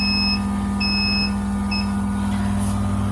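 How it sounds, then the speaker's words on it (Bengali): An egg incubator machine sounds a high electronic alarm in short repeated beeps with uneven gaps, over a steady low mechanical hum from the running machine. "আমি অ্যালার্মটা বন্ধ করি"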